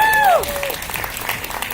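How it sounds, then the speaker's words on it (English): Audience applause at the Miss Trans Global 2025 pageant grand final, crowd clapping that starts under a brief voice and a gliding tone and then continues as a moderate, steady patter. "Round of applause for Malaysia"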